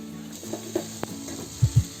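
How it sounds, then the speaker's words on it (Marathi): A spoon stirs chickpea amti in a pan, giving a soft sizzle with a few light scrapes and two louder knocks of the utensil near the end, close and brief, with no talking. "आणि आता आपल्याला चांगली ढवळून घ्यायची आहे."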